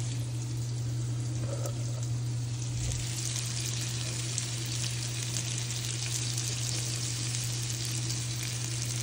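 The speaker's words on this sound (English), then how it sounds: "we're gonna add it to our cooking shrimp here" Shrimp and green onions sizzle in a hot pan with a steady, continuous close-up crackle over a low constant hum.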